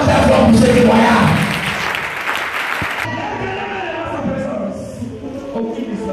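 A church congregation gives loud, sustained applause for a testimony, a dense wash of clapping that fades after a few seconds while a voice carries on over the quieter room.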